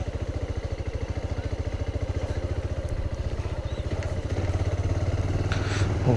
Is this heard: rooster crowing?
no